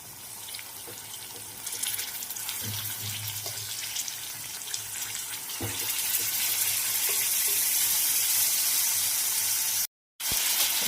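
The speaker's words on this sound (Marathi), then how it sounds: "छान आता मी खिमा पण टाकून घेते" Minced chicken keema sizzles steadily in a hot pan, a continuous wet frying hiss that swells louder toward the end, broken by a brief silent gap.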